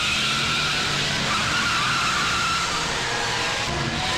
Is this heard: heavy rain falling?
no